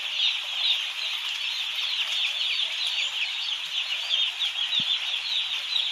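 Young chicks newly arrived at a poultry farm, their thin high peeping and chirping forming a steady, continuous chorus at moderate distance with no talk over it.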